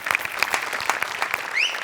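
A studio audience at a Marathi television comedy show breaks into brisk, dense clapping that holds steady for the brief moment, loud and close, with no talk over it.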